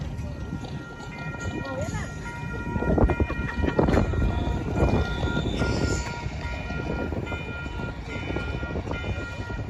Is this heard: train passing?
yes